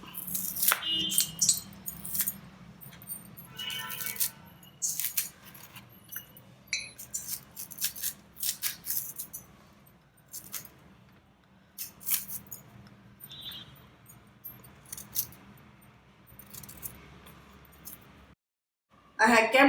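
Raw bananas peeled by hand for deep-fried banana chips: soft scraping, tearing and crackling handling sounds, close and intermittent, with scattered clicks and a low background hum.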